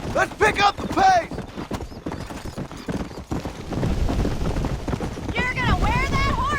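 A horse in the Red Dead Redemption video game clip-clops at a quickening pace, hoofbeats and rider noise mixed with bursts of voices and whinny-like calls.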